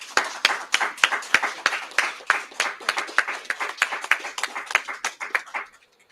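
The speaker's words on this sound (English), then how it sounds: "So I would like to applaud them." Scattered hand clapping from a small audience at a press conference about a solved murder case, with distinct individual claps in a loose rhythm that thin out and stop near the end.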